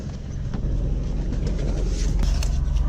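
Engine of a 2013 all-wheel drive sedan idling with the hood up, a steady low rumble with faint clicks above it and a quiet voice in the background.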